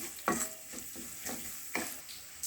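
Ginger garlic paste and turmeric fry in a pan for a Telugu okra and tomato curry, giving a soft, steady sizzle broken by a few light stirring scrapes.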